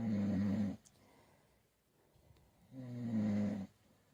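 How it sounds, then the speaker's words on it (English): A man snores in a recording played back indoors: two long, loud, rumbling inhalation snores separated by a quiet breathy pause of about two seconds, with no talking. "he's got video of me snoring"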